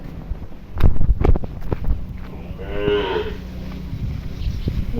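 A cow lets out a single drawn-out moo in the middle, preceded by a few sharp knocks, with light wind noise throughout.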